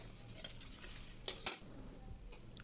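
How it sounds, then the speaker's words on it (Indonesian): Oil with a little fish oil sizzles steadily in a pan as a ground spice paste fries while a utensil stirs and scrapes, with a couple of sharper clinks against the metal midway. "Ini kita akan masak sampai bumbu halusnya tadi matang"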